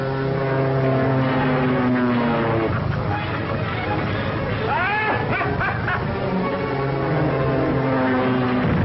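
A propeller airplane drones steadily through an old 1939 film soundtrack, a constant loud engine hum with muffled, narrow-band quality, while voices and music-like tones sit over it.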